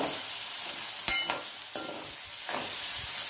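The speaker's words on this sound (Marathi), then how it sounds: "हे बघा कांदा टमाटर टाकून घेते आणि याला छान होऊ देते बारीक गॅसवर मस्त" Onion and tomato frying over a low gas flame, a soft steady sizzle with a few distinct spoon scrapes and stirs, quiet and close, without speech.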